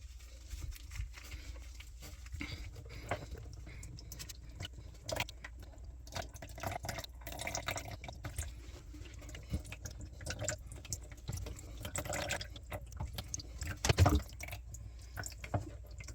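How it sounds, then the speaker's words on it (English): Water draining from a sink as the swing nuts on an accordion-style drain trap are loosened, giving a soft continuous patter and dripping with a louder splash near the end. "loosening up these swing nuts and draining all the water down"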